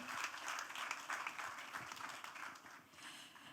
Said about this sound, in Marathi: पुन्हा एकदा जोरदार टाळ्या झाल्या पाहिजेत